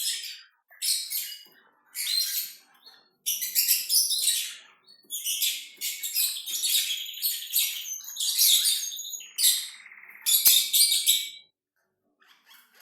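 A canary sings alone in bursts of high, bright trills and rapid chirps, separated by short pauses, close and clear with no talk.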